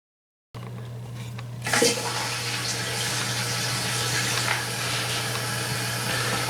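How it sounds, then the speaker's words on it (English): Toilet tank refilling with water after a wax ring replacement: a valve opens with a sudden hiss, then a steady rushing fill with a low hum runs continuously at close range, no talking. "with the water back on, this should fill up the tank in the back."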